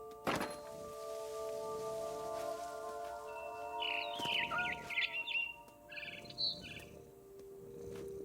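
A frightened bird in the video game What Remains of Edith Finch gives a few faint, quick chirps midway through, over a quiet game soundscape with low hums and a soft thunk.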